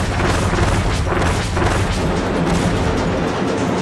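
A loud, dense explosive blast rumbles continuously as a bomb goes off against a mini boss in Kirby's Return to Dream Land Deluxe, with no talk over it.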